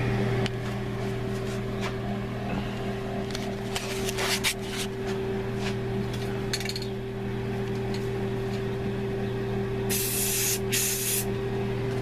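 An aerosol can sprays paint onto the front of a Starcaster Strat guitar body, a close, steady hiss over a constant electrical hum, broken by short bursts and a few light clicks.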